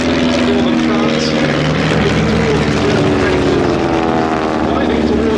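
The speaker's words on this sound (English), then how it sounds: "driving towards them a large group of aeroplanes" Replica Great War aeroplanes of the Bremont display team fly past together at an airshow, a loud, continuous droning of several propeller engines that holds steady throughout with no break.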